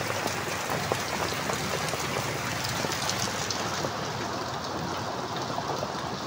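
Heavy afternoon downpour pours in a dense, steady hiss close by, loud and unbroken throughout with no voices.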